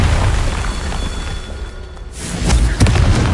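A Confringo blast spell in Hogwarts Legacy bursts with a deep, rumbling boom, followed by a couple of sharp thumping impacts over a loud, noisy background.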